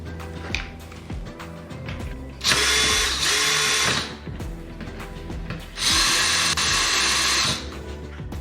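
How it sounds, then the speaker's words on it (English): A power tool drives screws into curtain track mounts for a motorized curtain track in two loud, whining bursts of a few seconds each, with quieter mechanical clicks and handling noise between them. "you need to twist them in place and tighten the screws"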